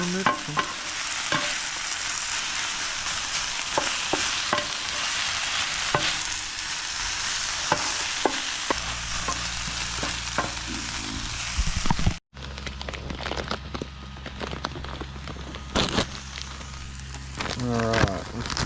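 Cheesesteak filling of meat and vegetables fries in a pan at a campsite, giving a loud crackling sizzle with repeated spatula scrapes and clacks while being mixed, a brief cut midway, and a voice talking at moments.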